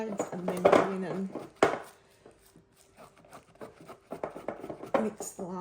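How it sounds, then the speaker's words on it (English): A spatula scrapes down the sides of a bowl of seeded sourdough dough in short, close bursts of scraping and knocking against the bowl, separated by quieter gaps. "Now I'm going to go scrape down my sides"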